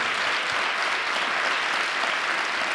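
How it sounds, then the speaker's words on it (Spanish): An audience clapping steadily and loudly, dense applause that continues throughout without pause. "yo creo que se merecen un aplauso esta editorial, por favor"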